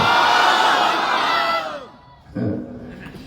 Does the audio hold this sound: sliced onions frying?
no